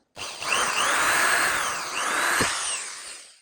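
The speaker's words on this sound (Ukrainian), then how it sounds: "Беремо сверло і просверлюємо отвір." A power drill bores a hole through a wooden leg for an outdoor table, a loud close whine that rises, dips briefly and surges again over about three seconds before cutting off.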